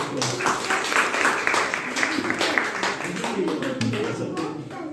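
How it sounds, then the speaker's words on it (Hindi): Loud, dense applause from an audience at a church branch inauguration, continuous broadband clatter sustained throughout with voices mixed in underneath. "जोरदार ताली बजाते हैं"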